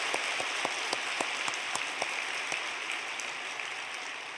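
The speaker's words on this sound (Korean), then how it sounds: "박수 한번 칩시다." A church congregation at an early-morning special prayer service claps, sounding fairly faint and distant, with sparse individual claps spaced out over a soft wash of patter.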